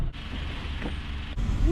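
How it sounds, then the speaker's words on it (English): The sunroof of a 2002 Honda Civic EX slides open: a steady motor whir lasting about a second, heard from inside the car over a low background rumble that stops and restarts abruptly. "Little stuffy in here, so let me pop open my sunroof."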